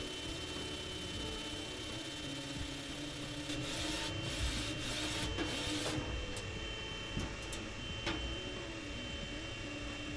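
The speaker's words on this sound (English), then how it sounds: "I'll let it finish this print" A UV printer runs through a print job, giving a steady mechanical whir and hum with brief sliding scrapes and clicks as the carriage moves, close and continuous with no one speaking.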